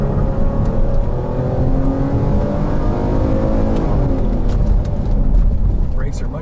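A naturally aspirated 3.3 engine in a 2020 Ford Police Interceptor accelerates, heard from inside as a loud, steady drone whose pitch climbs gradually.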